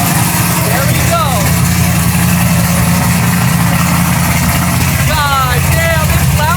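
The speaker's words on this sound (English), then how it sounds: "God damn, it's louder because I turned on the valve." A car's exhaust with its valve opened runs loud and steady, a low continuous engine rumble that fills the whole span while a person talks over it.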